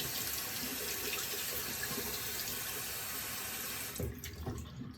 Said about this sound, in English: So I just wet the brush, let that sit